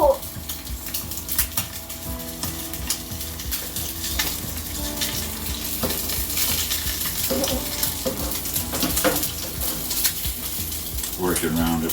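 An egg sizzles steadily in a pan over a gas stove while a utensil repeatedly scrapes and stirs it, the frying hiss continuous and fairly loud throughout with irregular scraping clicks on top.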